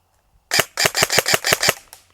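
An ASG Scorpion Evo airsoft gun fires a quick burst of about eight sharp, snappy shots in rapid rhythm, loud and close after a short silence.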